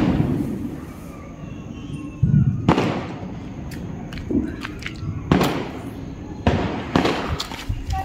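A homemade VIP sutli firecracker bomb bursts in a few sharp outdoor bangs, each followed by a rumbling tail, over continuous background noise.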